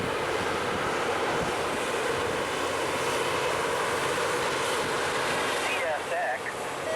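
A LORAM rail grinder train rolls past on CSX tracks, a loud, continuous broadband roar and rush that holds steady throughout, with a faint squeal toward the end.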